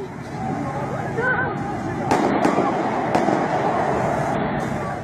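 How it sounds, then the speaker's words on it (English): Sharp gunshots ring out in Parliament Square, London, two or three loud cracks cutting through a restless crowd murmur and background noise, with people talking and shouting throughout. "Confusion and panic as gunshots rang in Parliament Square."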